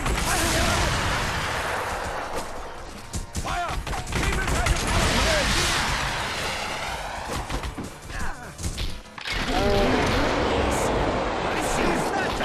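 Heavy gunfire crackles through a chaotic firefight in The Punisher video game, volleys of shots and impacts layered with crashes while voices shout over the din.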